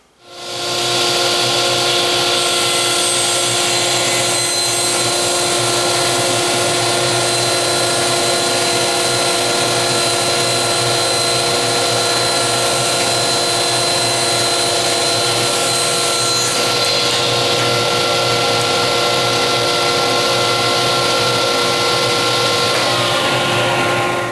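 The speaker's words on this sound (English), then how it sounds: "we're going to take our piece of 3/4 MDF over to the table saw, and we are going to rip it" Table saw ripping a length of 3/4 inch MDF board: a loud, steady high whine that spins up within the first second and holds for over twenty seconds, with a slight change in tone partway through; no talking.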